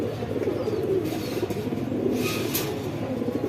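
Racing pigeons coo softly and repeatedly at close range, a low murmuring over faint background noise with no talk.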